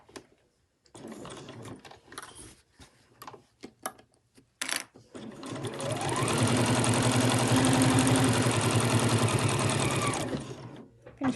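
A sewing machine stitching a fabric sewing machine cover, first in short start-stop bursts, then in one long steady run of fast, even stitching close by that slows to a stop.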